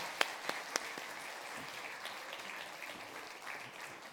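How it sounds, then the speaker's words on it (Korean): Congregation applause at a church Thanksgiving service, opening with a few sharp separate claps, then settling into a faint, distant patter of many hands that lasts about four seconds. "큰 박수를 한번 해주세요"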